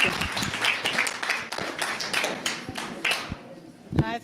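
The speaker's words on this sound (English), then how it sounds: "A round of applause." Applause at a book launch, a brief round of scattered hand claps from a small audience that fades out, with a short voice at the end.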